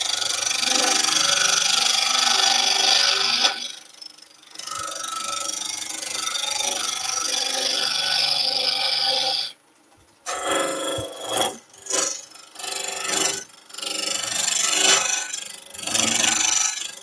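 Easywood parting tool cutting into a turning piece on a wood lathe, a steady rasping scrape that runs for several seconds, stops briefly, then returns as shorter broken bursts of cutting with brief gaps between them.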